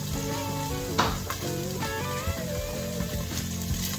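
Onions sizzle in a hot pan, a close, steady frying hiss with a few sharp crackles and pops, and a faint tonal hum running beneath.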